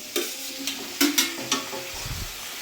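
Chicken pieces go into a hot pan with a few scraping stirs and a brief sizzle, close and fairly loud, with no voices.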